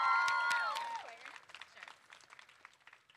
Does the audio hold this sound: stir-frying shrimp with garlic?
no